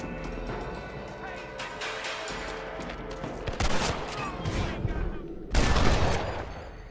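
Sharp bursts of gunfire crack in the Western video game Red Dead Redemption, several loud shots spread across the stretch with a final heavy blast, set against busy game ambience and a talking voice.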